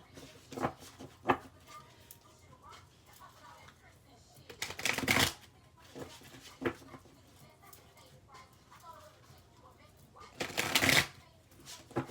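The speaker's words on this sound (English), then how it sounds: "I'm going to shuffle it 3 more times" Two bursts of card shuffling, crisp rapid riffling a few seconds apart, with quieter handling noises and faint murmuring between them.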